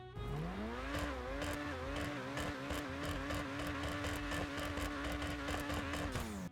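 Itali GTO sports car engine in GTA Online firing up and settling into a loud, steady idle, a near and rich mechanical tone with a brief rising rev at the start and quick throttle blips throughout.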